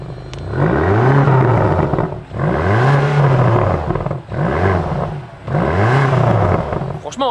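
BMW XM with its hybrid V8 engine revs hard four times in a row. Each rev rises and falls in pitch, loud and close, with short gaps between them.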